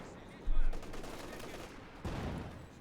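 Bombardment and gunfire from the video game Company of Heroes 2, with shells landing on a trench: a dense, continuous rumble of distant blasts and rattling shots, two heavier thumps standing out above the steady battle noise.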